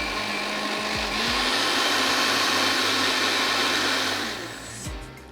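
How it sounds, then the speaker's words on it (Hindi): Blender whirring through a sauce for vegetable spring rolls, a steady close motor drone with a slight pitch shift before it winds down at the end. "तो चलें अब मैं इसको थोड़ा सा और ब्लेंड करती हूँ"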